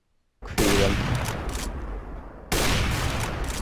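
Rapid gunfire from the video game CS:GO, a dense loud burst of shots that cuts out briefly and then resumes, with no talking.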